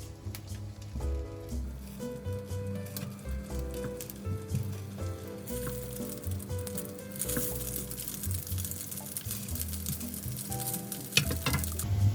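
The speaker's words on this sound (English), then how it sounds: "we're going to fry it for around 4 to 6 minutes on each side until it's golden brown" Spam and turnip cake (Chinese radish cake) frying in a pan, a steady close sizzle with crackling spits and occasional scraping or stirring, getting livelier toward the end, no voices.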